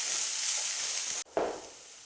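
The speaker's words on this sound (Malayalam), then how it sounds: "ഇനി ഇതൊന്ന് നന്നായി വഴന്ന് വരട്ടെ." Beef biryani ingredients sauté in a pan, a loud, steady hiss of sizzling that cuts off abruptly, then a softer sizzle resumes after a brief gap. No voices.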